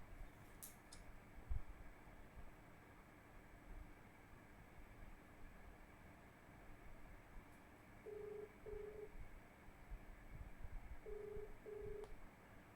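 Pairs of short dial tones sound during a phone call, two quick beeps near the end and another two a few seconds later, over a steady hiss and faint low rumble.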